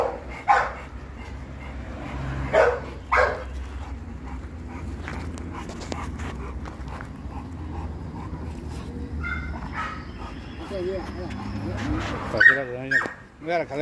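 A female dog in heat whimpers and gives a few short yips and barks, with a person talking over it and some background noise.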